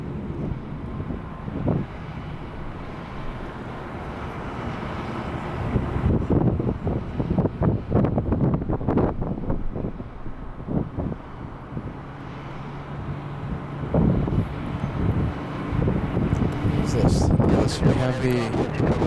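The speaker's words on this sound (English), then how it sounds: "We have the Delta Airlines A350 trying to go and park." A Delta Airlines A350 airliner taxiing to park at LAX gives a steady, distant broadband jet rumble mixed with wind buffeting on the microphone, with a person talking over it throughout.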